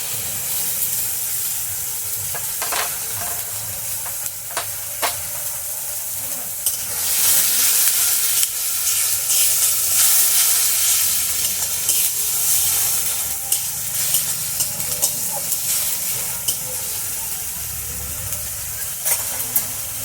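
Green chili paste hits a hot pan for a soya chunk and tender coconut dish, setting off a loud, steady hissing sizzle that swells midway and carries on throughout, with a few faint utensil taps and no voices.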